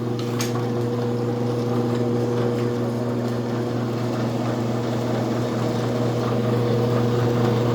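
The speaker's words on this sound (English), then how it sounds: "That is the belt spinning, and that's the clutch mechanism." An Ammco 4000E digital brake lathe runs with its belt spinning, giving a loud, steady mechanical hum with a constant pitch and even level throughout, and no speech.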